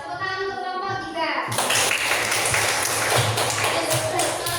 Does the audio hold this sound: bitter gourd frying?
no